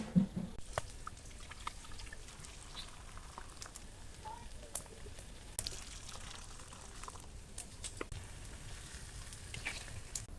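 Prawns frying in hot oil in a kadai, a steady soft crackling sizzle with scattered pops, quiet and continuous throughout.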